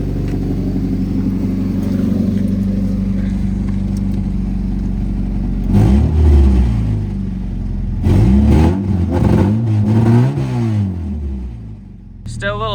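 A Nissan 240SX engine idles loud and close with a rough, slightly choppy low rumble, then revs up sharply twice in uneven, sputtering bursts before dropping back down.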